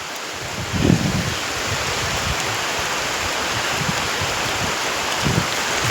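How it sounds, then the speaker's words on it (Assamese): Steady, dense rainfall hisses evenly throughout, close and fairly loud, with a couple of soft low thumps. "বৰষুণ ফাইনেলি মাৰি দিলাক"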